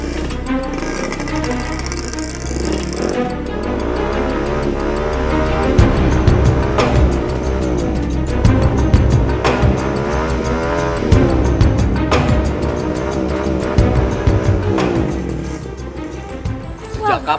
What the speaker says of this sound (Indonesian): kok kayak ada suara motor balapan ya?